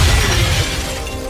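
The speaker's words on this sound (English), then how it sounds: "Bradford don't wait for no computer terminals, he just breaks the glass" Glass shattering in the video game XCOM 2, a loud crash with a burst of breaking debris at the start that fades into a ringing tail within about a second.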